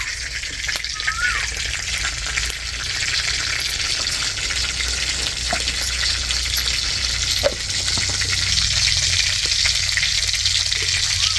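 Garlic and cumin crackle and sizzle steadily in hot oil in a pan for a home-style vegetable dish, a close, continuous frying hiss with scattered pops and no talking.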